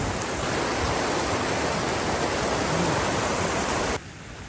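Glacial meltwater river rushes near a stratovolcano, a loud, dense, broadband roar of flowing water that drops sharply in level just before the end.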